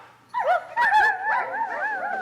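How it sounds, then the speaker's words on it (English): Watchdogs bark and yip in short, close bursts, several high whining barks in quick succession that overlap one another, with a few whimpering tones between. "Hark! The watchdogs bark!"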